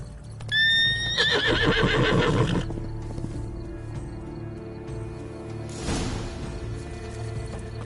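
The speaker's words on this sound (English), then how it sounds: "Should like that like any other damn horse." A horse in The Witcher 3 whinnies loudly and shakily, then snorts and stamps with hoof clops, followed by a later whooshing breath over steady ambient game sound.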